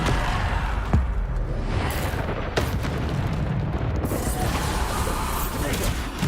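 Bombarda explosion spell in Hogwarts Legacy amid a busy combat scene, with several booming blasts and whooshes over a constant noisy rumble, and sharp impacts near one and two and a half seconds.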